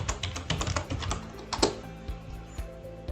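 Fingers typing on a computer keyboard, close and fairly quiet, with quick uneven bursts of key clicks and a short pause, no speech.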